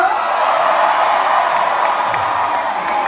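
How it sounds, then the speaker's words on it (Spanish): A packed drag show audience in Mexico City roars with sustained cheering and applause, a steady wash of crowd noise with whoops, loud and continuous throughout. "Un aplauso."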